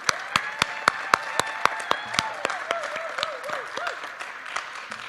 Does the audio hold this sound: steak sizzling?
no